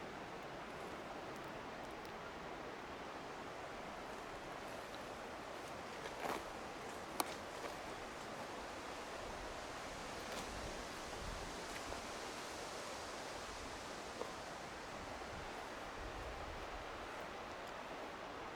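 A river flows steadily nearby, filling the whole stretch with an even, loud rush of water that never lets up. Only a couple of faint clicks break through, and nobody speaks.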